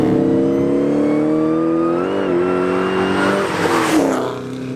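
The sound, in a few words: Ford SVT Mustang Cobra Terminator engine revving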